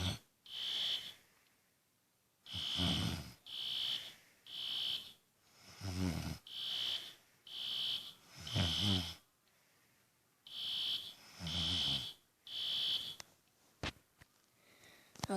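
A fire alarm beeps in a steady repeating series of loud tonal blasts with short gaps between them, heard at close range, while a person wakes from sleep and reacts with breathy sounds.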